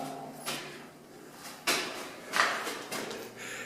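A heavy steel door aboard the Battleship Texas, sounding in a few knocks and scrapes of latches and hinges echoing through the ship's interior near the magazine, with no voices.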